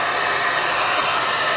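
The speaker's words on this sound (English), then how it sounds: "So I've got a hot air gun, so this is a Titan one, and it's on number two setting" A Titan hot air gun on its second setting blows a steady, loud, breathy roar while heating shrink tube, continuous and close with no voices.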